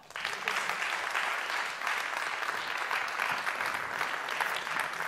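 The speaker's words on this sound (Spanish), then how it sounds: "¡Y ahora sí, otro aplauso!" Applause fills the hall at the 20th Premios Maketón music awards ceremony, a dense, sustained clapping from a large audience that swells quickly and stays steady throughout.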